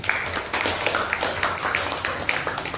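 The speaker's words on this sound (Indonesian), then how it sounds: "Tepuk tangan" A classroom group claps together, a dense steady patter of many hands held for a few seconds with no talk over it.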